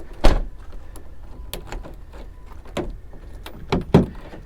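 A key is tried in the door of a damaged Rolls Royce Ghost V12, and several sharp metallic clicks and rattles of the key and door handle sound close by with quiet pauses between them.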